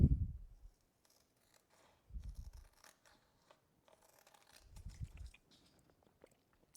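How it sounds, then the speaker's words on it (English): Scissors trim around the edge of a glitter-covered cup in a craft project, giving three quiet, close snipping crunches spaced a couple of seconds apart with near silence between them. "I need a pair of scissors. Let's trim around the edge here."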